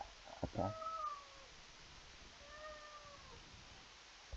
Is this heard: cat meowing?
yes